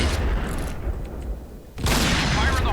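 Gunfire and grenade blasts in the shooter game Point Blank come as loud booming bursts, then a short lull, then another heavy burst of shots near the end.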